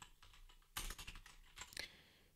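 Keystrokes on a computer keyboard while entering a birth date for a coding exercise, a scattered run of quiet clicks followed by two denser bursts of fast typing, close and alone.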